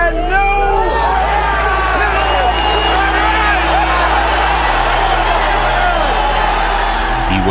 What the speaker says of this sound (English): The crowd erupted into a frenzy.